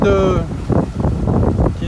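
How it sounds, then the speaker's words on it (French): Wind on a sailboat at sea under a good breeze, buffeting the microphone as a loud, rough rush with gusty surges throughout. "Il y a bon vent"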